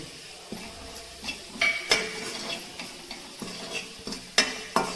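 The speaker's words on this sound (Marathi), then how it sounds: "हळद आणि मीठ 1 मिनिट परतायचं आहे" Onion with salt and turmeric is sautéed in a pan, a spatula scraping and clinking against the metal in quick, uneven strokes over a light, continuous sizzle, close and fairly loud.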